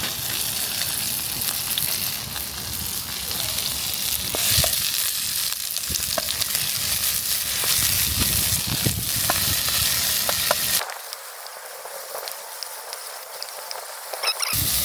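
Sliced green onions and onions sizzle loudly in canola oil in a pan at a campsite, a dense crackling hiss with stirring scrapes, easing to a quieter fizz near the end.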